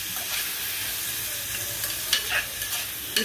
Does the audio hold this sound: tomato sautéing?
yes